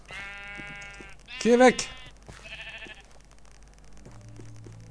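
Sheep bleat in the Minecraft video game, with several separate tonal bleats, one loud and wavering call in the middle, while someone speaks briefly in German.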